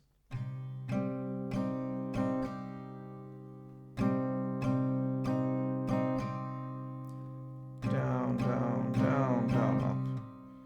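Slow acoustic guitar strumming in a down, down, down, down, up pattern: spaced strokes on one chord ring out between hits, then a brighter, busier strum near the end, close and unaccompanied.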